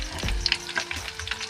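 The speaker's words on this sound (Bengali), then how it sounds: "চিকেন পকোড়াগুলো ছাঁকা হয়ে গেছে।" Chicken pakoras deep frying in hot oil over a low gas flame, a steady close sizzle with crackling pops and occasional stirring clinks throughout.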